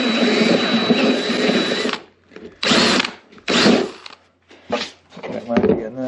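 A step drill bores a hole in a solar generator build, whirring loudly in several short bursts with pauses in between.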